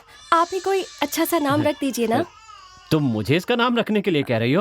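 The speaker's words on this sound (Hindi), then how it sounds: "बच्चा रो रहा है" An infant cries in wavering, high-pitched wails mixed in with adult conversation in a home setting, the crying rising and falling under and between the voices.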